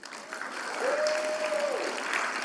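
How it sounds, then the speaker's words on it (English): Audience applause at a university leadership and service awards ceremony, a steady wash of clapping from a crowd, moderately distant, with a brief tonal whistle-like note partway through. "Give a round of applause for Tanner."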